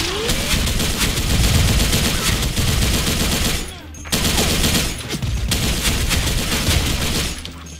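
An RPK74 machine gun in the shooter game Special Force 2 fires in long, dense automatic bursts with a brief pause between them, loud and close.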